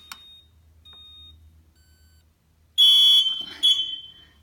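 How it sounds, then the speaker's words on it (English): A wired hallway smoke detector gives short, faint chirps over a quiet room, then a louder, harsher electronic beep pattern sounds near the end. "it's a really dull beeping from that one"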